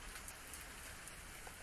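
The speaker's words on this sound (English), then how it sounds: "I appeared to be under the overhang of a tea house, taking shelter from the rain." Steady rain falls around a tea house overhang, a dense, even hiss of drops that stays constant throughout.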